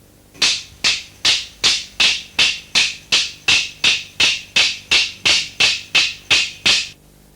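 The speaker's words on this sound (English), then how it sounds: "Boomerang clapsticks can be beaten together to sound like this" Aboriginal boomerang clapsticks beaten together in a steady, even rhythm of about sixteen sharp wooden clacks, close and loud, with no voices.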